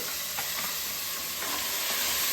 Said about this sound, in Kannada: ಸ್ವಲ್ಪ ಅದು ಫ್ರೈ ಆಗಲಿ